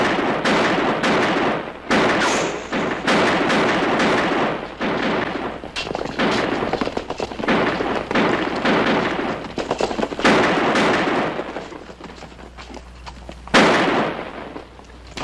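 Gunfire rattles through a western shootout as equipment gets shot up, dense bursts of loud cracking shots in rapid volleys with brief gaps between them, close and harsh, with no talking.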